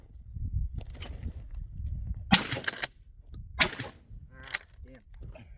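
Gunshots fired at a drone ring out as several sharp cracks spaced a second or so apart, moderately distant, with low rumbling handling noise and a faint voice between shots.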